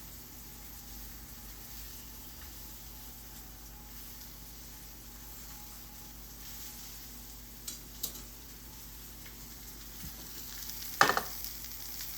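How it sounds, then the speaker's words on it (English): Pigs in blankets sizzle quietly and steadily in a pan, a soft continuous crackle, with a few small clinks and taps near the end. "while they're sizzling for a little while longer"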